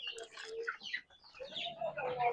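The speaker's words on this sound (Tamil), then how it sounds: "இப்போ இந்த ரூமில் பார்த்தீங்கன்னா கிட்டத்தட்ட நம்மள்ட்ட 70 குஞ்சு இருக்குது." Young country chicks, about seventy of them around fifty days old, cluck and peep in a farm room, a soft, busy chorus of overlapping calls heard close with no talk.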